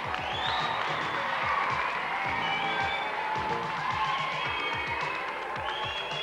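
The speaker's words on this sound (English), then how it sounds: "I don't think the crowd could shout any louder." A large crowd at a BMX competition shouts, whoops and cheers loudly and without a break, forming a dense wall of voices, while rhythmic thumping runs underneath throughout.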